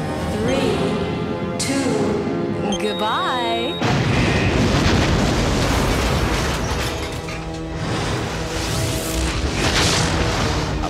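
Explosion from the science-fiction film Alien Intruder as a spaceship blows up: a broad, loud rumbling blast that bursts in after a sweeping whine, then sustained roaring debris noise with a soundtrack running underneath.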